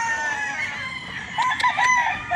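Young gamefowl roosters (stags) on a range crow, with a drawn-out call followed by overlapping crows from several birds, loud and fairly near, with no talk.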